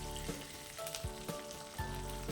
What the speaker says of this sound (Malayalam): അപ്പോൾ ഇത് നന്നായിട്ട് ഇങ്ങനെ വറുത്തെടുക്കണം